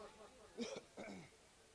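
Two short, dry coughs come close together, faint and near, in an otherwise quiet room.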